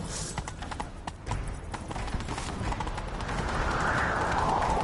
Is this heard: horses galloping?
yes